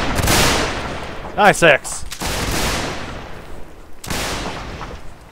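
Musket volleys in a multiplayer Civil War line battle game, with several sharp cracking shots bunched together near the start, another burst around the middle and a later report, while players shout over the firing.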